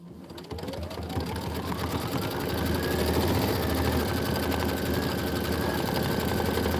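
A sewing machine runs steadily, stitching quilt blocks for a pennant and flower-block quilt section, its rapid even needle chatter and motor hum continuing close by and unbroken throughout, with no talking.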